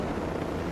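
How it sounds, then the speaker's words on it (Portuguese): Helicopter arriving in the video game Ghost Recon Breakpoint, a dense, steady rotor drone with a broad engine roar, loud and continuous in a brief burst. "Ixi, já apareceu o helicóptero aqui."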